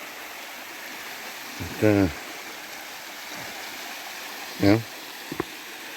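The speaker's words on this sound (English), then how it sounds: "So there is some water running here" Low water running through a rocky gorge stream at Tanners Falls in northeastern Pennsylvania, a steady soft broadband wash that continues throughout, with a voice speaking briefly over it twice.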